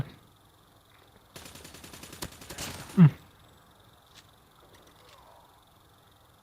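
A lightning shock gun fires in Call of Duty, a quick crackling burst of rapid pulses lasting under two seconds and ending in a sharp jolt, before quieter game ambience returns.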